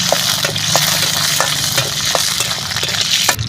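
Green chillies fry in hot oil in a village kitchen pan, a steady loud sizzle broken by regular scraping strokes of a spoon stirring them, with no talking.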